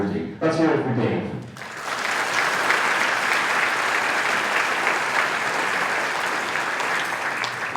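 A banquet audience breaks into sustained applause after a brief spoken introduction, the clapping loud, dense and steady for several seconds.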